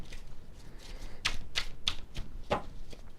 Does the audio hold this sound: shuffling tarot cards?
yes